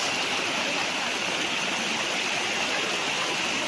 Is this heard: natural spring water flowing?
yes